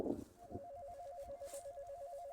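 A steady electronic ringtone warbles between two pitches, repeating rapidly and continuously over a low outdoor rumble, after a brief burst of noise at the start.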